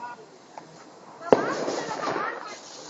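Fireworks rockets going off outdoors on bonfire night: one sharp close bang followed by crackling and hissing bursts, with people talking nearby.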